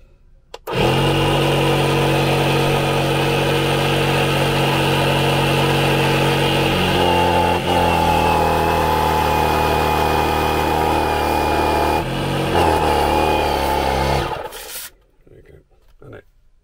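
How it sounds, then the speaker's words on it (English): A Kampa Gale electric air pump runs steadily and loudly for about fourteen seconds, a constant motor drone with a whining pitch that shifts slightly as pressure builds, then cuts out abruptly once it passes the set 8 psi. "If I press that, the pump should start."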